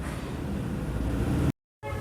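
A dense, steady rumble of a moving train fills the air, cutting out abruptly for a moment before resuming.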